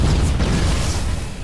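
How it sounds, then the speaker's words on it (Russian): A deep, rumbling explosion in Watch Dogs with a broad roar that stays loud and sustained, like a game blast echoing, with no talking over it. "От взрыва меня уберегла моя защита."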